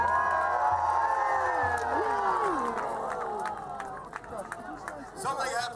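A crowd cheers and whoops during a knights' jousting event at a medieval fair at Pendennis Castle, broad cheering swelling early and then thinning, with a voice speaking over the noise.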